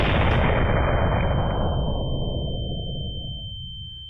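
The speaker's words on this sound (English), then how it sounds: "A dull bass thud means the ball has struck a hull." A cannonball strikes a wooden ship's hull in a single loud, dull bass thud that booms and then slowly fades away over several seconds.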